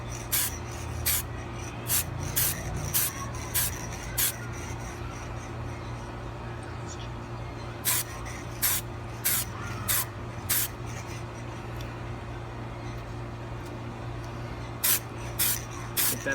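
Aerosol spray paint hissing in repeated short bursts as final coats go onto a custom Funko Pop figure, with a steady low hum underneath throughout.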